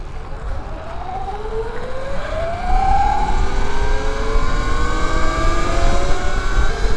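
A 2025 E-Ride Pro S electric motorbike is ridden at full throttle near 50 mph, its motor whine climbing steadily in pitch over loud wind rush, close and continuous, with no talking.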